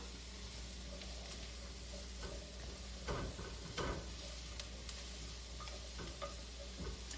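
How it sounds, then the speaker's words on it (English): Chopped mushrooms fry in a hot pan for fried rice, giving a steady, even sizzle with a few faint clicks and scrapes over a constant background hum. "what I'm going to add is my chopped mushrooms. I'm going to cook those down"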